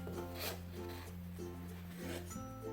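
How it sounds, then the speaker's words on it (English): An acrylic disc scrapes excess frosting off a cake in soft, close rubbing strokes, heard faintly over a steady low background hum. "I'm going to go ahead and scrape off some of this."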